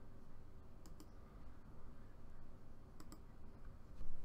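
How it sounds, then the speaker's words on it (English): Comic books being shuffled and sorted off to one side, heard as scattered paper rustles and a few sharp clicks over a steady low background rumble. "in the background, I'm going to be shuffling all the books that we're actually looking at"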